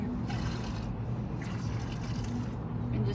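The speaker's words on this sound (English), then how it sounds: "And just get all that dirty water out." Dirty wool wash water pours steadily out of a bucket, a continuous close splashing gush with no break for about three seconds.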